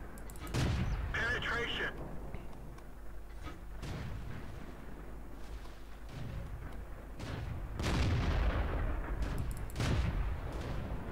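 Tank cannon shots in the World of Tanks video game, several heavy booms spread across the stretch with gaps between them, mixed with ongoing game noise and talk.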